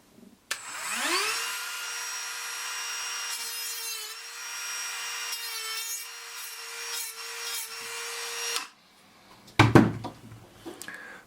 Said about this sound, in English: So we got our trusty Dremel again.